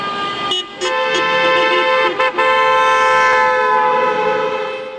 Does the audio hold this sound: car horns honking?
yes